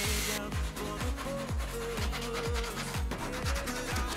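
Hand saw cutting cedar wood for a sauna bench, a steady rhythmic rasp of back-and-forth strokes about twice per second, close and loud with no talking.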